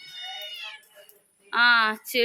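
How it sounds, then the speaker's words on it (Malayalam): A cat meows twice nearby in a Kerala village, the second cry louder and more drawn out, then a short third meow begins. "പൂച്ചതാ പൂച്ച"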